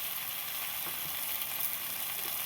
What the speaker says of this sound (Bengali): একটু সব মশলাগুলোকে একটু আমি নাড়িয়ে নিই, মিশিয়ে নিই একটু